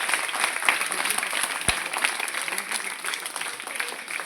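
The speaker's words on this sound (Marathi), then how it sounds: "टाळ्या वाजवा सगळेजण" Applause at a prize ceremony honouring an award received in Delhi from the President, a dense steady wash of many hands clapping throughout, fairly loud and continuous with faint voices mixed in.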